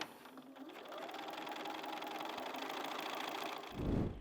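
A sewing machine with a BSR stitch regulator stitches steadily in free motion quilting, a fast, even mechanical whir heard up close and alone, ending with a brief louder low thump.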